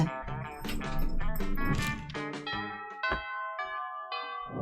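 A two-tone doorbell chime from the Monster Prom video game rings out clearly, a bright harmonic ding-dong with music-like tones in a short sequence, standing alone without talk.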